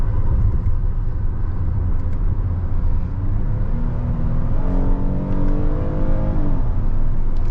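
A 2023 Hyundai Palisade three-row family SUV drives with a steady low engine rumble and road noise, and its automatic transmission shifts audibly as rising engine tones step up.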